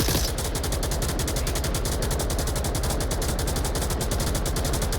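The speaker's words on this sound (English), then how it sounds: "We got a 249 returning fire." Sustained rapid bursts of M249 machine gun fire in the VR shooter Pavlov VR during a competitive team match, loud, dense and rhythmic, running without pause for several seconds.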